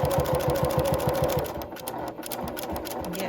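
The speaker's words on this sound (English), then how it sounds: "we're just going to continue stitching down that edge" A sewing machine stitches down the edge of a small wallet made from a men's shirt cuff, with a rapid, even run of close mechanical ticks followed by steadier whirring.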